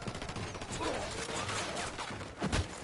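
Rapid gunfire bursts in the Ghost Recon Wildlands video game: a steady stream of clattering shots and mechanical clicks fills the scene, with a heavier burst near the end.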